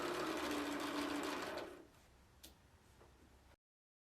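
A sewing machine stitches fabric bunting pieces in a steady, dense whir that runs for about a second and a half and then stops, followed by a few faint clicks in a quiet room.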